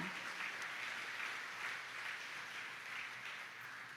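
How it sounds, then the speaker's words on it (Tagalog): A church congregation claps in sustained applause at a fairly faint, distant level, steady with soft ripples and no voices over it. "Malakas na palakpak sa Panginoon."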